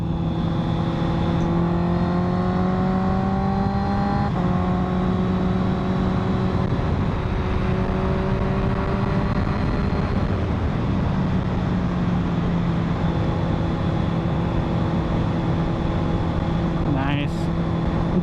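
Honda inline-four motorcycle engine revving hard under acceleration, a loud steady whine with rising and falling pitch through gear changes, heard up close with wind noise throughout.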